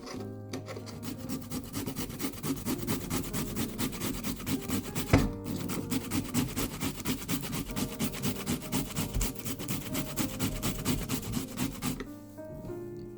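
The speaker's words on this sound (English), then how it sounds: "I already washed it, peeled it, and now I'm gonna grate it. So here I'm using this grater here on the fine side." A peeled plantain is rubbed on the fine side of a hand grater, producing continuous close rasping scrapes in a quick back-and-forth rhythm, steady for about twelve seconds before stopping, with no talking.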